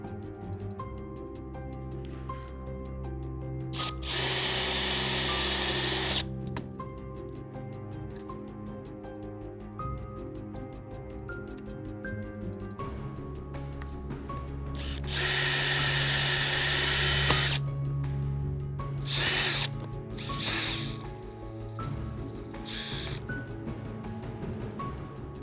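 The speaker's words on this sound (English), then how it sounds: "I'm going to have a go at drilling that out" A power drill whirs in two loud bursts, a few seconds each, drilling out a plastic plug in a Renault Clio, separated by quieter clicking and handling noises of work on a panel.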